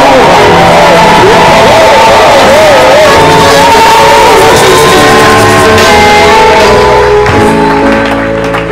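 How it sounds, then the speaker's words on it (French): A church assembly in Salem cheers and acclaims loudly at an evangelism campaign gathering, with shouts, whoops and sustained crowd noise that fills the whole stretch with a wavering vocal tone riding over it. "Assemblée de Salem acclame en signe d'amour pour nos frères et sœurs."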